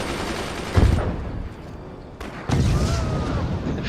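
A sniper weapon fires in the Forts video game, giving two loud, booming gunshot bursts about two seconds apart over a dense, continuous backdrop of game battle noise.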